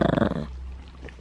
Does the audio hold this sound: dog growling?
yes